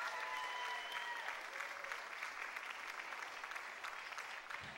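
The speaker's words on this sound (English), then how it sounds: "it's really cool when you can hear people yelling and cheering for you" An audience at a runway seminar breaks into sustained applause, a dense even wash of many hands clapping with faint cheering mixed in, steady throughout and slowly easing toward the end.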